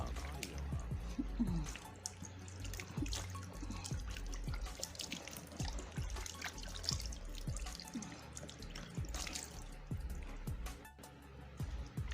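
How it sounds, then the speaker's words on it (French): Lukewarm water running from a tap and dripping into a sink while a face scrub is rinsed off, with irregular splashes and drips close by and no speech over it. "Il faut faire le rinçage avec de l'eau tiède."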